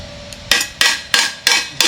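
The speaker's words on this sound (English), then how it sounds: "I'm going to use this hammer" Five sharp hammer blows ring out at a steady pace on an old Chevy truck body, each a bright metallic strike that fades quickly, close and loud with no talking.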